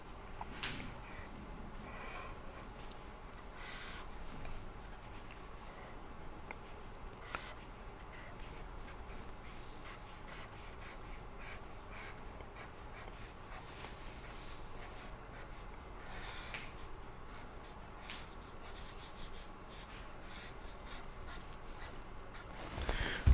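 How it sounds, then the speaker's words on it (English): Pen or pencil sketching a machine component diagram with a shaft and bearing locations by hand, a steady faint scratching and rubbing with short strokes throughout, no talking. "Just one view I am drawing maybe."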